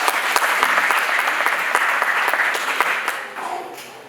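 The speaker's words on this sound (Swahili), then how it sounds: "sumpe Yesu makofi" A church congregation at a Swahili service claps enthusiastically in a steady burst of dense applause that fades toward the end.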